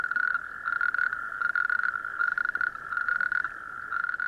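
A male natterjack toad calls in a loud, continuous rattling trill, repeated in rapid bursts with barely a pause, close and clear against a quiet night background.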